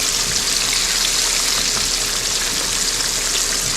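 Fish coated in cream cheese fries in hot oil with a loud, dense, steady sizzle and hiss that stays even throughout.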